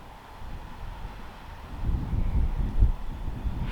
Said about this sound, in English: Certainly a windy spot here today